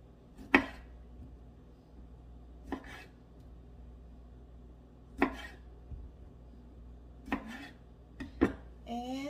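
A knife cuts washed cherry tomatoes on a board in a kitchen. It makes sparse, crisp thuds spaced a second or two apart, close by against quiet background noise.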